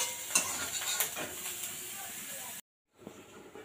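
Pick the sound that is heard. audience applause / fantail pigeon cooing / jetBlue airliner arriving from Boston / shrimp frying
shrimp frying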